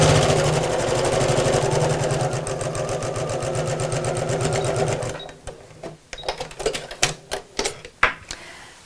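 A sewing machine runs a long, steady stitching burst on tote bag fabric, then breaks into short, uneven stitch bursts with pauses, loud and close.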